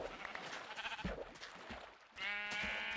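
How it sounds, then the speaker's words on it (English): Sheep in Minecraft bleat in a few short wavering calls, one longer bleat near the end, over quiet game background. "there's plenty of sheep"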